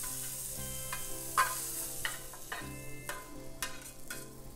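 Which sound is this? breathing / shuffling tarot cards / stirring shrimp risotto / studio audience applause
stirring shrimp risotto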